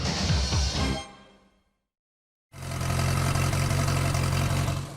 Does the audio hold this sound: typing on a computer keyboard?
no